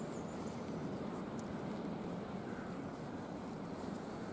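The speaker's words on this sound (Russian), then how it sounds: "На улице ветер, может быть, меня не слышно." Steady wind buffets a microphone outdoors beside apartment buildings in a Polish municipality, a constant low rumbling roar with no gaps and no speech.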